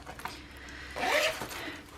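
A short zipper pull on a travelers notebook's zipper pocket, a quick raspy zip near the middle with faint handling noise around it.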